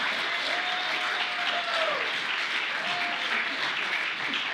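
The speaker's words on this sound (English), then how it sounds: "even though you don't know Zach, give him a round of applause." Audience applause at a masquerade gala, a continuous, even wash of clapping from a crowd, with faint tonal whistles or cheers rising through it.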